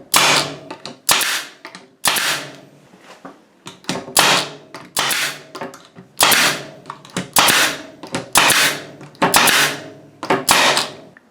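A DOTOOL SF5040Q 2-in-1 pneumatic brad and crown staple nailer fires rapidly into wood, about a dozen loud, sharp, close-up cracks, each followed by a short hiss of air, spaced roughly evenly with no talking.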